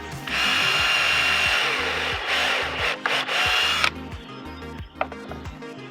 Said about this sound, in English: I'm just going to pre-drill real quick